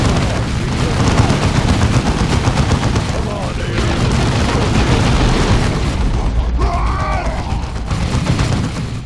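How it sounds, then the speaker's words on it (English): Heavy bolter suppressive fire in the Warhammer 40,000 Dawn of War 2 video game, rapid sustained bursts and booming impacts filling the whole span, with a brief voice over the battle. "The suppressive fire from my heavy bolter will keep the greenskins pinned."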